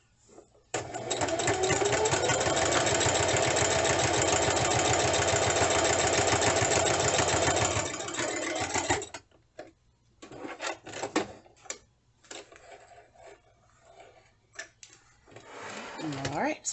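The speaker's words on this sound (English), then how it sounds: "So I just use my sewing machine and top stitch." A sewing machine top stitching fabric for a tooth fairy pillow, running in one loud, steady mechanical whir for about eight seconds, then stopping, followed by quieter handling sounds and short bursts.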